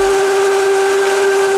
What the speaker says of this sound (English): I cover my blender. Put this baby on high for 30 seconds to a minute.